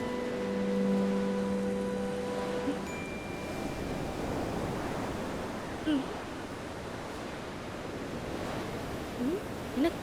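Sea waves wash onto a shore in a steady, broad roar of surf. Faint whooshes rise and fall throughout, and a short sustained tone sounds near the start.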